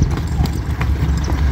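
Hooves clip-clop quickly and loudly on hard ground, a close, rhythmic series of hoof strikes over a brief stretch.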